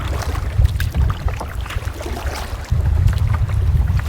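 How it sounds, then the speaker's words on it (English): Gusty wind buffets a canoe on a lake, loud blustery rumbles and roaring bursts surging in waves, with a strong sustained blast building in the final stretch; water slaps faintly beneath. "These gusts are quite nasty."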